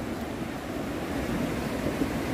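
Floodwater rushes past the TDH Nohdrang campsite at Maibang in Dima Hasao, a steady, loud, continuous roar with no breaks and no voices.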